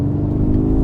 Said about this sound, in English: It actually makes like a V8 noise.